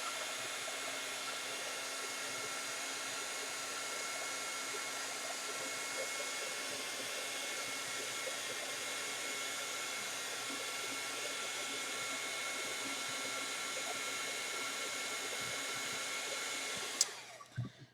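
A hair dryer drying a watercolor painting blows with a steady, loud, even whoosh for about seventeen seconds, then clicks off abruptly.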